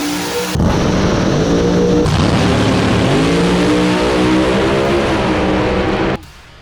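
A race car engine held at a steady, buzzing high idle on a two-step rev limiter with an MSD Pro 600 CDI ignition, loud and close, for several seconds before cutting off abruptly.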